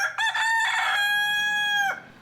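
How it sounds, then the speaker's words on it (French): A Chinese rooster on a farm in Fujian crows once, loud and close, a single drawn-out cock-a-doodle-doo call that rises and then holds a steady sustained note before cutting off. "Non, ça n'est pas un coq gaulois, mais un coq chinois."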